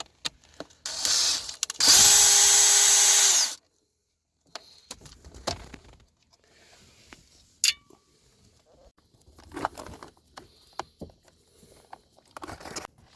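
A power driver whirs loudly in one short burst while backing a screw out of a 2015 Toyota Highlander driver seat, followed by quieter handling clicks, a sharp snap and rustling.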